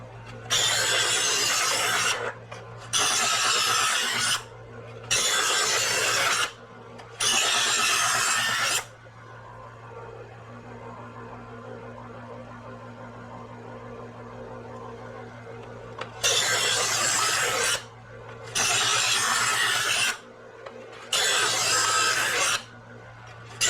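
A knife blade is drawn repeatedly across a sharpener in steady rasping strokes, four in a row, then a quiet pause, then four more, loud and close against a low background hum.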